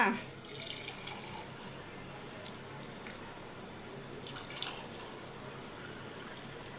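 Carrot and beetroot juice poured from the fridge into glasses, a soft, quiet liquid trickle over faint background noise that lasts several seconds.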